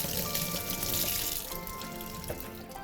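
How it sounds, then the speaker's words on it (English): Celery washed under a running tap, a steady close splash and rush of water over the stalks that quietens partway through. "just pull off your celery and give it a wash"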